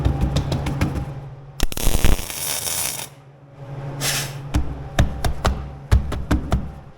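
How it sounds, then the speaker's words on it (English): Welding on an old Land Rover: sharp crackling arcs and buzzing hiss in short bursts, scattered with metallic taps and clicks, loud and close. "Time to weld."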